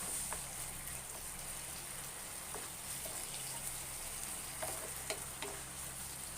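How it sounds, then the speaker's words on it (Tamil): Tamarind being stirred into a frying tomato pickle, giving a steady soft sizzle with faint scraping stir sounds throughout, heard alone at a low, even level. "நல்லா புளியை போட்டு நல்லா மிக்ஸ் பண்ணி விட்டுறேன்"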